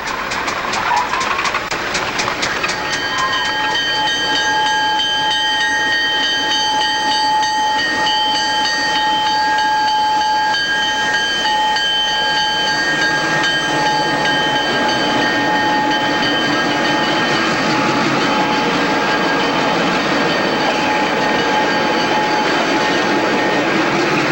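Newfoundland Railway train Extra 944 East departs Clarenville, a steady loud rumble with strong hiss and sustained tonal ringing that carries unbroken throughout, with no voices.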